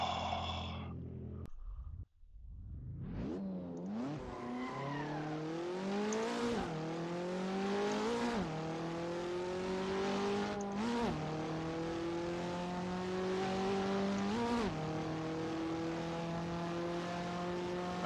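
KTM X-Bow race car engine in the racing game Assetto Corsa, revving loudly and continuously as it climbs through the gears, with repeated rising pitch sweeps and brief dips at each shift.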